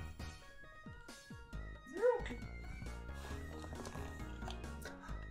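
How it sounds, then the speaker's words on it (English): A puppy whimpers and yips softly during a bad dream, with small irregular whines and cries close by at low volume. "My puppy was having a bad dream."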